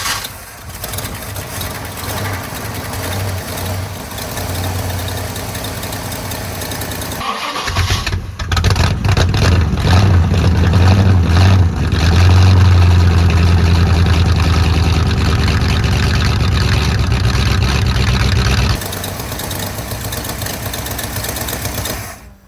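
A ratty big block Ford Thunderbird, sitting for two years with starter issues, cranks loudly, then its engine runs rough and heavy for several seconds before cutting back down.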